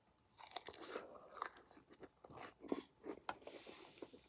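Someone bites into salad and chews it close to the mic. Quiet wet crunches come in an irregular rhythm of crisp bites and mastication, with no speech over them.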